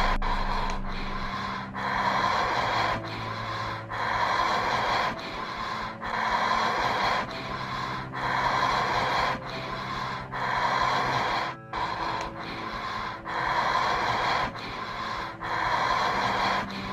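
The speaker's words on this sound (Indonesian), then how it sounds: "Bener-bener suara nafas doang ini." Heavy, rhythmic breathing from a horror clip played back, with long rasping inhales and exhales repeating about every second or two, fairly loud and close, with a low tonal drone beneath and no speech.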